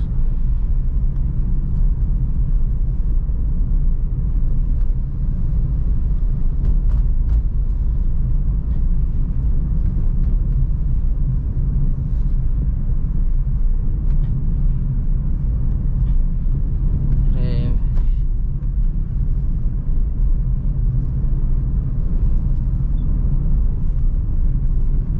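Inside a Suzuki Ertiga driven in third gear on a Central Java road, a steady, loud low engine and road drone hums throughout with no sharp changes.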